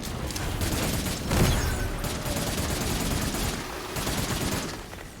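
Rapid automatic gunfire and minigun bursts in the sci-fi video game Cygnus Enterprises, dense and continuous across the whole stretch with a heavier thump early on and brief dips between volleys.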